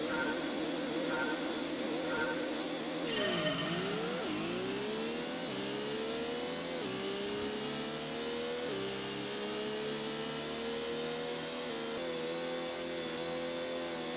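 A race car engine in Gran Turismo 1, droning loud and steady, then dipping sharply and climbing back up through several upshifts, each gear a rising whine; another car is audible behind, with no speech.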